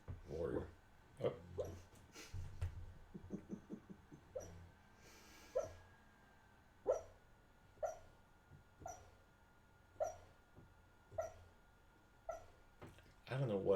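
An eight- or nine-week-old puppy whimpers and yips in its sleep, with a series of short, soft, high cries repeating at roughly one-second intervals, some brief murmured talk early on.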